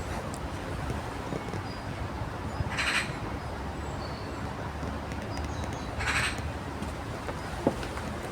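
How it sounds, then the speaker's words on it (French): A bird in a garden gives two harsh, crow-like calls a few seconds apart, moderately distant over a soft outdoor background. "Je sais pas si vous avez entendu son bruit. C'est quoi comme oiseau?"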